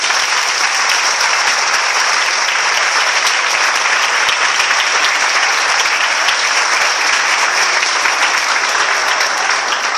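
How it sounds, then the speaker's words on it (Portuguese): A church congregation at an evening service claps loudly and continuously, a thick, even roar of applause that stays at full strength from start to finish with no talk over it. "Quem consegue aqui aplaudir o nome do Senhor com vontade?"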